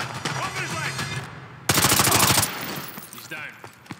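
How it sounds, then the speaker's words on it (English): Rapid burst of gunfire from Call of Duty Modern Warfare 2 Remastered, a dense, loud volley of repeated shots in the middle, with game ambience and voice-like sounds before and fainter noise after. "Roach, take the shot."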